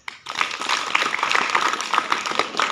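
An audience breaks into brisk, dense clapping that starts abruptly and continues steadily, fairly close and filling the room, with no talk over it.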